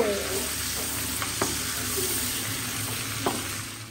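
Golda chingri (giant freshwater prawns) frying in a pan: a steady, close sizzle with a few sharp clicks and scrapes of stirring, no voices.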